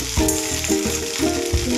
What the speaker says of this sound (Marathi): आणि आता आपण भेंडी व्यवस्थित परतून घेऊया।